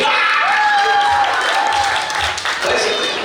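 Audience applause and cheering at a Diwali party, a dense steady crowd clapping that stays loud throughout, with a few voices calling out over it.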